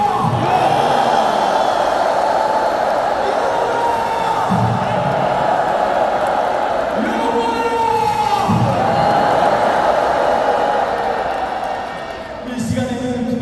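A large crowd at a church denomination anniversary assembly shouts and cheers in a sustained roar, with bursts of louder whoops and voices rising above the din before it eases off near the end.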